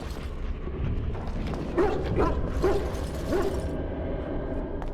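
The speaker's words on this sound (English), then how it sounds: "Hey, is this a dog?" A dog in the video game Dragon Age: Origins gives several short barks and yips spaced across the middle, heard over a rumbling game background.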